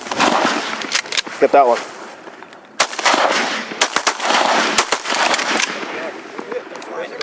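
Several sharp shotgun blasts ring out during a waterfowl hunt, spaced irregularly across the span, with hunters talking and calling out between and over the shots.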